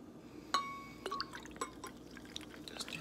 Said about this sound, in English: Shall I pour some more for you